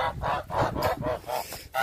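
Geese honk in a run of about seven loud, evenly spaced calls as they are let out, close by with no voices.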